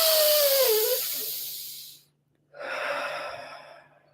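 Slow, deep breath during a guided breathing exercise: a long drawn inhale for about two seconds, a short pause of silence, then a steady hissing exhale, close and fairly loud.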